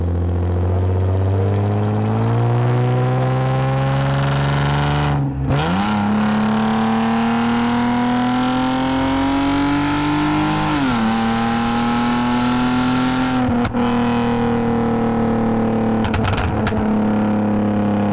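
A tuned Lexus IS250 AWD with an aftermarket intake accelerates hard through the gears on a late-night drive, its engine note climbing loudly with brief drops at each shift, heard from inside the car.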